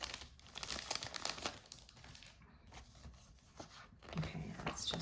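Packaging on a planner is opened, with crinkling and tearing of wrap and card rustling close by, and a person talking softly at times.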